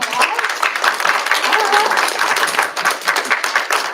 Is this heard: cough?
no